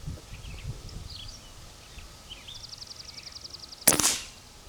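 Outdoors, a Barra 250z air rifle fires a single sharp, loud crack at a shotgun shell target about 25 to 30 yards off, near the end of a calm stretch with faint bird chirps and light rustling.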